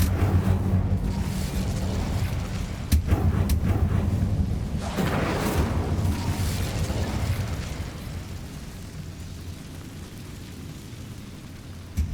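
Incendio fire spell cast in Hogwarts Legacy, a loud whooshing burst of flame with crackling roar, sustained for several seconds before tapering into a quieter rumbling tail.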